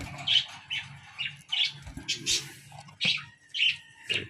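Cockatiel chick and its mother, a cinnamon and grey pair, chirping and squawking in short repeated bursts at close range, with soft voices talking quietly underneath.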